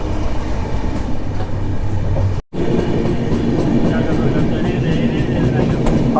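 A Garib Rath Express passenger train, the 12910 Hazrat Nizamuddin–Bandra service, runs with a loud, continuous rumble and rattling wheel noise, broken by one brief drop-out partway through, with voices faintly present under the din.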